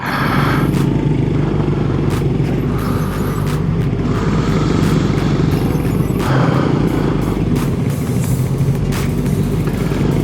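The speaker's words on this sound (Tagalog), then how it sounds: "May motor to." Steady road traffic with engines rumbling close by, a motorcycle passing among the vehicles, with brief scraping bursts along the way.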